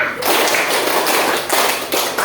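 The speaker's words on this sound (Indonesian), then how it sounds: "Tepuk 1, tepuk 2, tepuk 3, tepuk 4, tepuk 5" A group claps in a steady counted rhythm during a class session at a teacher training program in Gorontalo, a run of dense, loud hand claps filling the whole stretch with brief pauses between beats.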